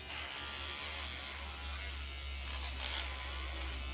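An electric razor buzzes steadily and close up as it shaves the plastic arms of a Monster High doll, a constant quiet hum with a slight rise near the end.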